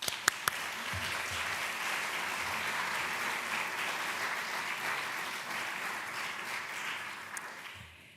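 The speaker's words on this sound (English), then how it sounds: "So please give them a round of applause." An audience at a cultural heritage conference applauds, dense steady clapping that holds for several seconds before fading out.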